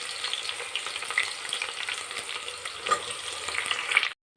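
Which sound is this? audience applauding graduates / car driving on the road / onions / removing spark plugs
onions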